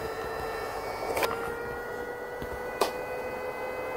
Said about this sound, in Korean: 칫솔이 건조되고 있는 소리입니다.